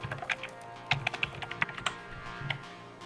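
Keys on a computer keyboard are tapped in short quick bursts, close and fairly quiet, with brief pauses between.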